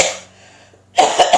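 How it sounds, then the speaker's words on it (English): A woman coughs at close range: one short cough, a brief quiet pause, then a quick burst of two or three harsh coughs. "Still coughing."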